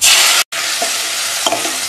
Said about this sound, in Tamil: இதை நல்லா வதங்க விட்டு